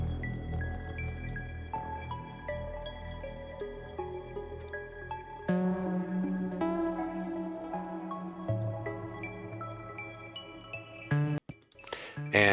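Ambient modular synthesizer patch playing a slow sequence of clear, bell-like tones that step up and down in pitch and overlap into a soft wash, with a brighter, louder stretch midway and a scratchy, glitchy burst at the end.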